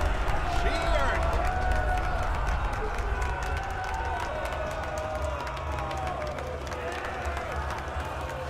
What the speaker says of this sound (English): Applause, mesdames and messieurs!